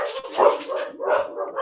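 A dog barks and yips a few times in quick succession, loud and close, with the sharp calls rising and falling.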